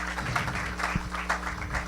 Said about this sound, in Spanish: recíbanlos a ellos pues con un fuerte aplauso